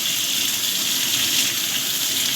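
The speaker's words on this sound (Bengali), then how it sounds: "আমি সব একসাথেই ভেজে নিচ্ছি" Onions and mixed vegetables fry together in hot oil, giving a loud, steady, close sizzling hiss that runs without pause.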